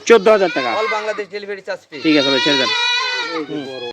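A four-month-old Beetal castrated male goat bleats loudly and repeatedly up close, with long wavering cries, and speech may be mixed in.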